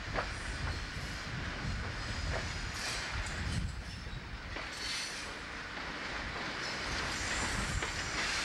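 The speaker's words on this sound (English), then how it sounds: "As our train pulls into the station, our excursion formally ends." A train rumbles steadily with a constant hiss and faint clacking of wheels, a continuous mechanical roar with no voices.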